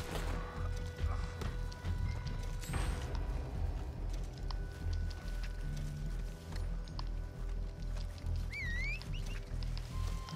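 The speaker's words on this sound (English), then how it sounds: "Gotta call my horse back." Horse hooves in Red Dead Online, a steady rhythmic clip-clop of a galloping horse, with a brief whinny near the end, heard alone over game ambience.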